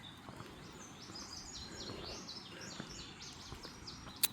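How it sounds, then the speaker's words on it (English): Many small birds chirp and trill in a steady outdoor chorus, some calls close and others farther off, with a sharp nearby chirp near the end and no voices. "I'm not sure if you can hear all the birds and stuff"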